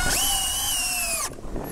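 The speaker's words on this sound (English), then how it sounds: "I get my drill to work right." A power drill drives a screw into a wooden stud while building a quail hutch, a loud steady whine at high speed for over a second before cutting off abruptly, followed by faint handling noise.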